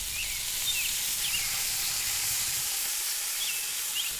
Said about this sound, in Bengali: এখন আমি সবজিগুলো ভালো করে ভেজে নিচ্ছি